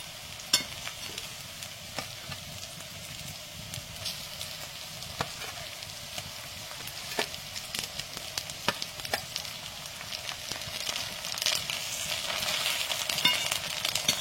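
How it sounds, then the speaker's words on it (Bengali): Ginger, garlic and cumin paste frying with browned onions in a pan, a steady sizzling hiss broken by sharp spatula scrapes and clicks, swelling slightly louder toward the end with no talking. "তো আমার পেঁয়াজগুলো ভাজা হয়ে গেছে, এবার আমি দেব আদা রসুনের পেস্টটা।"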